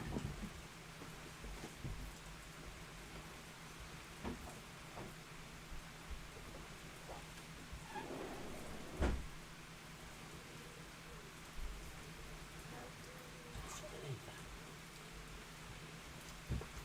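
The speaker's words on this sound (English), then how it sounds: "the weather gods have decided that we're going to have a torrential rain here" Heavy, torrential rain pours steadily beyond patio doors as a continuous broadband hiss, with occasional louder splashes and a few low rumbles, steady and unbroken throughout.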